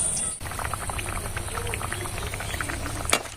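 Semolina and potato snacks fry in moderately hot oil, a dense continuous bubbling crackle heard up close, steady throughout with a brief dip at the start.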